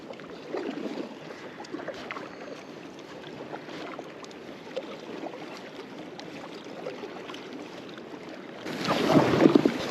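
Kayak without a rudder paddled toward a glacier in Alaska, soft water splashes and paddle strokes under steady wind noise, with a louder burst of splashing near the end.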